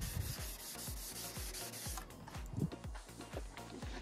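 Wet sanding with 3000 grit sandpaper on a painted part, heard close up as rhythmic back-and-forth rubbing strokes, about four per second, steady and alone.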